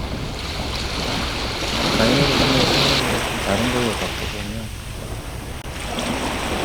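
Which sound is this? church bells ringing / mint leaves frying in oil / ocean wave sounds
ocean wave sounds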